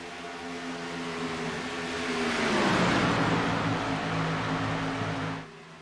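Race cars circle the track in the ISCA Domino's 200 at Michigan, a loud continuous engine roar that swells as the cars pass close, shifts pitch downward and then drops away abruptly near the end.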